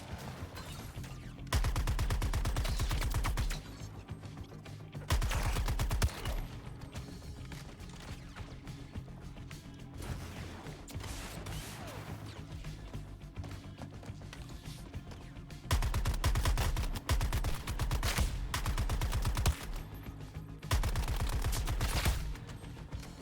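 Weapon fire in the video game Suicide Squad Kill the Justice League comes in several loud, booming bursts of rapid shots, separated by quieter stretches of combat noise and a steady game soundtrack.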